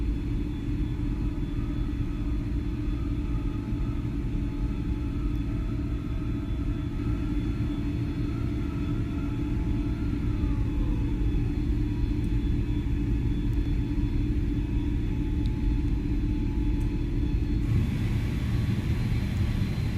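An Airbus A310 in Microsoft Flight Simulator 2020 gives off a steady, loud, flat engine rumble with a constant low drone and faint whining tones, unbroken for the whole stretch and with no voices.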